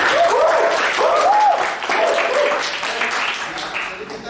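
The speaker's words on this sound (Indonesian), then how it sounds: "Oke, tepuk tangan dulu." Steady applause from a class at the end of a lesson fills the room, with a few voices and cheers rising over the clapping throughout.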